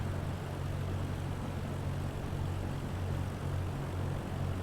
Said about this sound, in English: We have someone taking off from probably this runway over here.